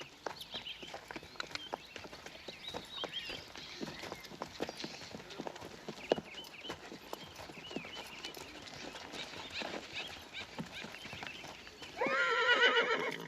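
Hooves clip-clop steadily as a horse walks on a farm, then near the end the horse lets out a loud, close neigh over the footfalls.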